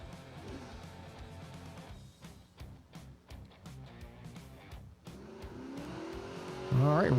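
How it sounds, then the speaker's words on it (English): Race cars run a dirt racetrack at a creek-side event, engines droning and surging at a distance with some tire noise, under a track announcer's voice. "Robert Hambone Copsey coming up here on the left side of the racetrack."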